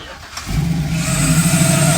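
A freshly built first LS swap engine in a car fires up and revs as the accelerator is pressed, a loud, steady close-up roar building after a brief quiet start.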